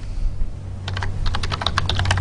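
Rapid keystrokes on a computer keyboard while C code is typed during a programming lecture, starting after a short pause and continuing in a quick, uneven patter over a steady low hum.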